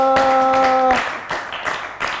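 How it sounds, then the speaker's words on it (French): An audience claps in short, quick bursts after a sustained tone ends, brief and fairly loud with no clear cheering. "acclame très très très très fort"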